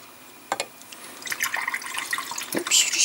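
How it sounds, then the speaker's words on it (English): Water splashing in a tub of paint-rinse water at a miniature-painting desk, with a couple of sharp splashes early on, then light sloshing and dripping that builds toward the end; close and fairly quiet. "Oops, just splashed everywhere."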